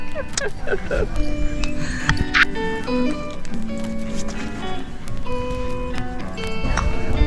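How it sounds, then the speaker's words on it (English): Horses clip-clop on a ride through the Vinales Valley in Cuba, with steady hoof beats under continuous outdoor background noise and occasional faint voices. "now we are about to go ride these horses"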